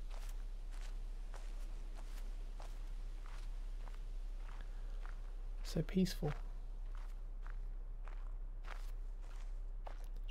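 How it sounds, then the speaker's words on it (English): Footsteps crunch steadily on gravel in The Witness, an even walking rhythm that carries through a calm outdoor scene while someone talks briefly over them. "Just the sound of your footsteps on the gravel."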